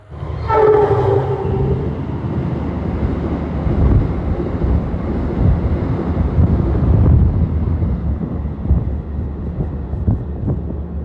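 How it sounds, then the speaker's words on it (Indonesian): At Maus station in Indonesia, a train horn sounds in a few loud blasts, then the passing Argo Wilis train rumbles past steadily with rattling wheels and wind noise. "kereta api Moti Selatan Berhenti di stasiun Maus, tunggu bersilang dengan kereta api Argo Wilis"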